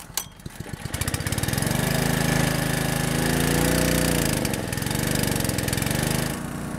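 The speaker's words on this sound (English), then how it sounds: "as I go to turn the choke off, it revs up and then it just chokes and dies" A gold trommel's small engine sputters to life, revs up to a steady buzzing roar as the choke is turned off, wavers, then bogs down and cuts out, leaving a quieter rattle.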